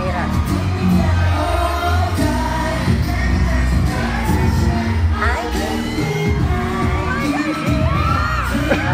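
A large crowd screams and cheers loudly and continuously during a performance at SM Megamall, a dense wall of shrieks mixed with the booming, thumping sound of the show.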